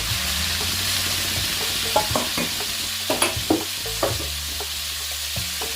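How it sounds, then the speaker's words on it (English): Onions, tomatoes, garlic and chili frying in hot oil for ackee and saltfish, giving a continuous close sizzle with scattered clinks and scrapes of stirring. "We're going to be adding the onions, the tomatoes, the garlic, and so forth and so on, the garlic and the chili."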